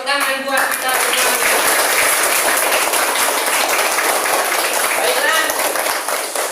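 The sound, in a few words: classroom applause, clapping hands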